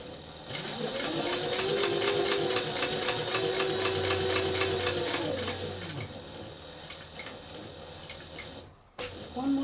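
Sewing machine stitching a cork envelope wallet, a close motor hum with rapid regular needle ticking for several seconds, then stopping, followed by a few softer clicks and handling sounds as the corner is turned.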